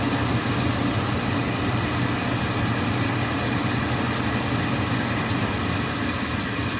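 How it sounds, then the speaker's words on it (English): A Carrier Weathermaker 8000 gas furnace's draft inducer runs during the pre-purge, giving a steady, continuous motor hum and whoosh of moving air at a constant level throughout. "There you can see the draft inducer is fired up"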